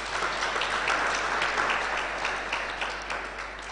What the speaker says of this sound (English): Let's give a clap offering to Jesus.